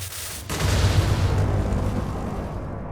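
A shockwave energy blast in a Demon Slayer mod game bursts as a sudden booming explosion, then holds a loud, deep rumbling roar that slowly tails off, with no voices.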